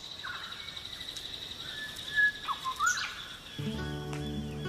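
Parrots in a northern tropical rainforest give scattered chirps and short squawking calls against a faint hiss of insects, with a buzzy, harmonic call rising near the end; moderately distant and fairly quiet.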